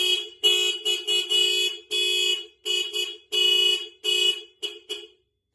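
Aftermarket alarm on a Polaris Slingshot blaring during a sensor test, a loud, shrill siren sounding in a series of choppy bursts of uneven length with short gaps, then cutting off; no talk.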